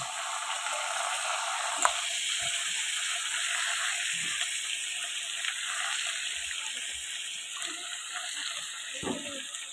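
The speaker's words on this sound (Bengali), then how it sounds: "তো বন্ধুরা এখন কেটে রাখা লাউটা আমি এখন ঢেলে দিচ্ছি" Chopped bottle gourd goes into a hot pan, setting off a loud, continuous watery hiss that holds steady throughout, broken only by a few faint knocks.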